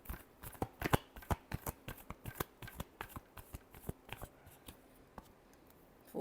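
Tarot cards shuffled close by in a quick run of crisp, rhythmic riffling snaps that gradually thin out toward the end, quiet and without talking.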